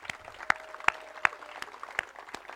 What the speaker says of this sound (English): let's have a final big round of applause for all of those environmental groups working so hard to protect planet